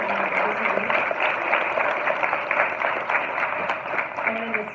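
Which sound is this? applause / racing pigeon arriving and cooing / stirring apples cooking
applause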